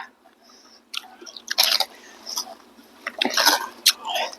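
Close, wet chewing and crunchy bites on Thai fermented rice noodles with pla ra and big blanched shrimp. Irregular smacking and crunching bursts come in quick succession and grow denser toward the end.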